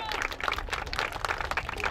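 Crowd applause at an outdoor sandcastle-building contest as a winner is announced, a short burst of scattered clapping from a modest group, moderately loud, with some voices underneath.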